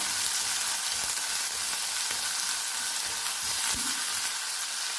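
Dried shrimp tossed and fried in a pan give off a loud, unbroken hissing sizzle, with a few soft stirring knocks scattered through it.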